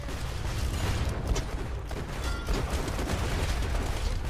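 Sustained gunfire from the co-op shooter Borderlands 2, a dense, loud wash of rapid shots and impacts filling the whole stretch without pause, with no talking over it.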